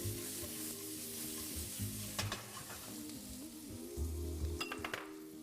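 Walnuts frying and being stirred in a pan for a duck dish with Israeli couscous, a steady close sizzle with scraping and clinking from the stirring, plus a low tonal hum underneath and no talking.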